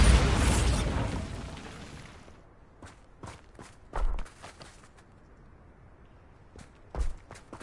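A Bombarda spell detonates in Hogwarts Legacy with a loud, close blast that fades over a couple of seconds, followed by scattered thuds and two later low booms.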